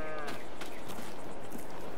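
Cattle moo in Farming Simulator, a long low bellow sustained through most of the short stretch against a dense farmyard ambience.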